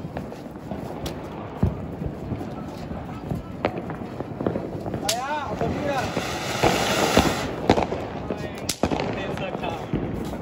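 Small Diwali firecrackers set off at home, with a few sharp pops and crackles scattered through outdoor background noise and people talking nearby.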